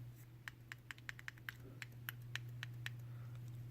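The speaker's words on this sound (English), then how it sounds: "you can actually click this" Small clicks from a button pressed repeatedly on a plastic fidget cube, a dozen or so sharp, light taps at an uneven pace, faint and close over a steady low hum.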